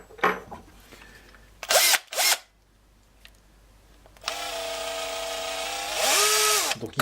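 A cordless screwdriver fitted with a 1/4-inch magnetic hex angle adapter whirs in short bursts, then runs in a longer sustained spin whose pitch rises and falls near the end, close and fairly loud.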